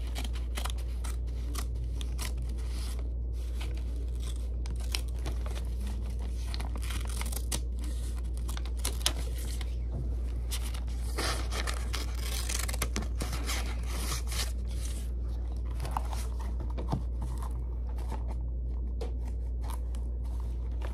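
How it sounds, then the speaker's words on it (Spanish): Scissors cut paper for a homemade Canadian flag, with repeated close, crisp snips and soft rustling, crinkling and scraping over a low steady hum. "Vamos a agarrar las tijeras."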